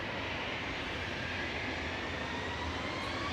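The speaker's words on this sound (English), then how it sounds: "EasyJet's going to Venice" An EasyJet jet airliner at Manchester Airport, departing for Venice, gives a steady, broad engine roar that holds evenly throughout with no voices.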